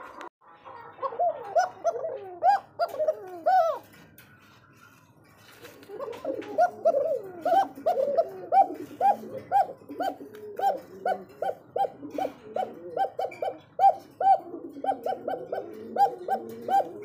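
A Basiraj Koka pigeon pair, male and female, coos close by in repeated throaty calls, with a brief lull before a long, steady rhythmic run of coos.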